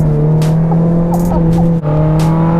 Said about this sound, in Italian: Il suono degli ITB ti entra nelle ossa e ti spinge ad andare ancora più forte di prima.